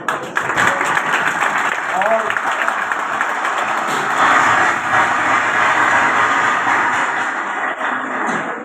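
Audience applause at a marriage bureau event in Faisalabad, a steady dense wash of clapping that swells slightly midway and holds throughout, with a voice heard briefly over it.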